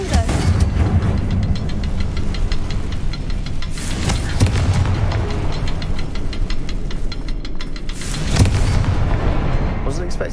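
Confringo blasting-spell explosions in Hogwarts Legacy burst as loud, broad booms roughly four seconds apart, over a dense, continuous rumbling din of combat noise.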